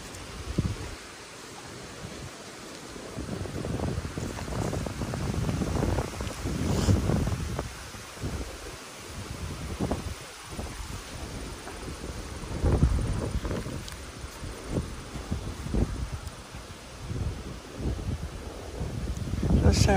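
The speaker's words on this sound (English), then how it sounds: "Sorry about the wind. It's very windy today." Strong wind gusts rumble and thump against the microphone throughout, rising and falling in irregular bursts outdoors.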